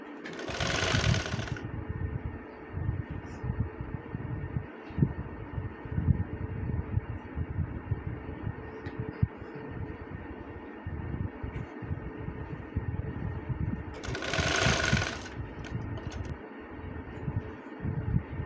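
A sewing machine stitches the pleated fabric of a baby frock with a fast, even mechanical whirr and needle chatter, running almost continuously at moderate level, with two brief bursts of louder hiss standing out.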